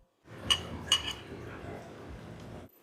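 Dishes and cutlery clink at a seafood churrascaria, with a couple of bright metallic taps followed by softer rattling against a steady room murmur.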